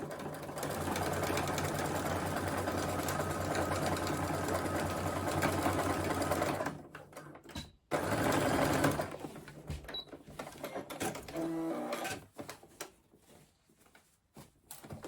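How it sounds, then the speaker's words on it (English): A sewing machine stitches bag lining fabric with a loud, steady mechanical whir for several seconds, then stops and restarts in shorter bursts with handling clicks and rustles. "I've done my first line of stitching, a couple of mils from the edge"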